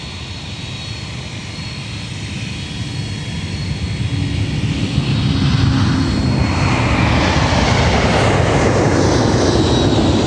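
MD-11 jet airliner at MSP airport, its engines roaring loud and broadband, building from a steady rumble to a stronger, fuller roar as the aircraft draws nearer.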